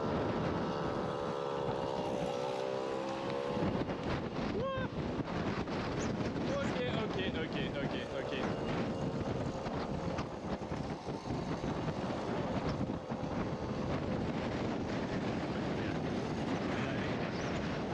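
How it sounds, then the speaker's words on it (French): Violent gusts of over 140 km/h buffet a moped crossing a bridge in Norway, roaring loudly and continuously into the microphone with heavy broadband rumble, engine drone buried beneath. "Ça veut dire qu'il y a des rafales à plus de 140 km/h."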